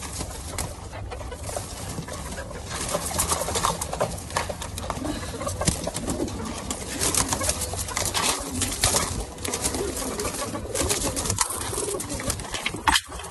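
Rock pigeons coo continuously up close, layered with rustling and fluttering, a busy, dense soundscape with no talking.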